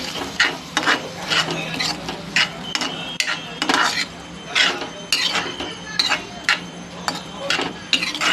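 Cooked moth beans stirred in a pan on the stove, a series of irregular scraping and clinking spoon strokes against the metal, fairly close and loud, with faint voice-like sounds in between.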